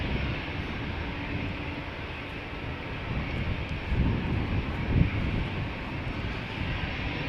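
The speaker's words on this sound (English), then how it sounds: "Another airplane going to Persenchester." EasyJet Airbus A320 departing Amsterdam Schiphol Airport, a steady broadband jet roar holding close and loud throughout, swelling slightly midway as the aircraft passes, with no voices.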